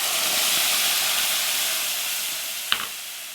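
Frying tomato with cumin seed, asafoetida and turmeric in hot oil for a North Indian chole rajma curry gives a steady, soft sizzle and hiss, with one sharp pop near the end.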